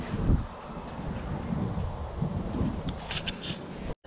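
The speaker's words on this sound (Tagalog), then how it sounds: "Lumalakas yung hangin" Strong wind gusting across a microphone outdoors at a grassy fishing spot as the weather turns stormy, a steady low rumbling buffet with a heavier thump near the start, continuous and fairly loud with no one talking.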